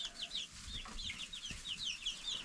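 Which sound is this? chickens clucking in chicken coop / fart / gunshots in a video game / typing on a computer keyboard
chickens clucking in chicken coop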